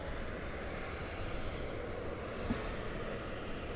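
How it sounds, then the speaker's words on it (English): A Boeing 737-800 inbound from Jacksonville approaches the airport as a broad, steady distant engine roar that holds at an even level throughout, with no talking. "the flight from Jacksonville, which is a 737-800, will be coming in"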